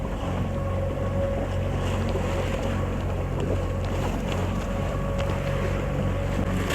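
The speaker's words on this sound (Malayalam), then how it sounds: "നമ്മൾ അപ്പുറത്തുനിന്ന് ബോട്ട് കയറി ഒരു 10 മിനിറ്റ് അല്ലേ, ഒരു 5 മിനിറ്റ് ഓടി ഇവിടെ എത്തിക്കൊണ്ടിരിക്കുന്നു" A motorboat heading to Sambranikodi island in Kerala drones steadily throughout, its engine rumble mixed with buffeting wind noise and no talk.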